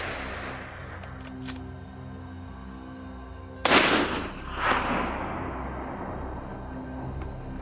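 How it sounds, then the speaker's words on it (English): Rifle shots during a boar hunt on a hillside slope: two sharp cracks about a second apart, the first louder and echoing, heard at a distance over a steady outdoor background. "2 shots ring out across the slope"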